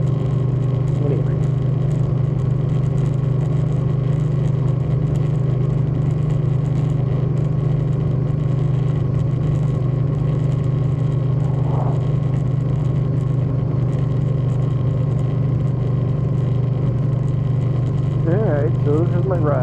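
A 2013 Suzuki Boulevard M50 motorcycle engine drones steadily while riding, a loud, constant low rumble heard up close throughout, with a voice briefly talking over it.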